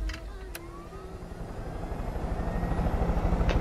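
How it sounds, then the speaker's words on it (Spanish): A helicopter in the video game Far Cry 5 thrums with a low, rapid rotor pulse that grows louder and closer, with a few faint clicks over it. "Vamos a coger el helicóptero."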